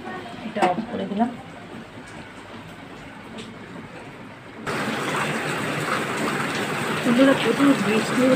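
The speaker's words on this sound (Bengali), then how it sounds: "প্রচুর বৃষ্টি হচ্ছে" Heavy rain sets in partway through as a steady, dense hiss that stays loud to the end, after a quieter opening with faint voice-like sounds.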